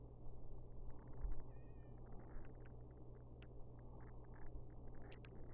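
A cat meows faintly in a zombie survival video game, a few short high calls over a low steady rumble of game ambience.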